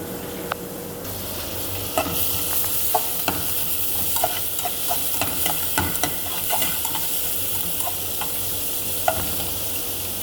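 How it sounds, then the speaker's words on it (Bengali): Chopped onion frying in a little oil in a pan, a steady close sizzle carrying light clicks and scrapes of a stirring spoon throughout, with no talk. "এখানে আমি সামান্য পরিমাণ তেল দিয়ে নিয়েছি এখন আমি দিয়ে দেবো পেঁয়াজ"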